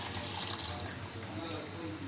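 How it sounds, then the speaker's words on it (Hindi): Water poured from a pot or tap into a cooking pot while making yakhni pulao, a steady splashing stream that is fairly faint and brief, with a voice speaking over it. "सॉरी वो सारा पानी डाल देंगे।"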